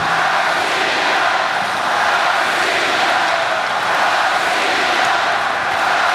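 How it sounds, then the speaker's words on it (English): Arena crowd at an ice hockey world championship game between Russia and the USA roars in a loud, continuous, dense wash of cheering that swells slightly and never drops away. "The crowd is into it now at center ice."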